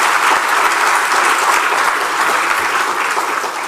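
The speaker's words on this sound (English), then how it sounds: "Can we give again all of them a round of applause?" Audience at an awards presentation for outstanding CXC examination students in Trinidad and Tobago applauding, a loud, sustained, dense round of clapping from a large crowd filling the room without speech.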